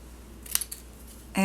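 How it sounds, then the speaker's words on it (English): A paper trimmer slices the end tabs off a card with a couple of short, crisp cutting snaps, followed by a brief louder rustle at the end. "I am going to cut off the end tabs."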